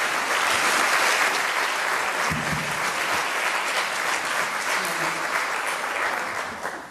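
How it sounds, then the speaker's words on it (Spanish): Sustained audience applause at an award ceremony for the 2015 Torrevieja Audiovisual festival, a dense wash of clapping from a large crowd, steady and loud throughout before easing slightly at the end. "Recibimos con un fuerte aplauso a Liliana Rodríguez,"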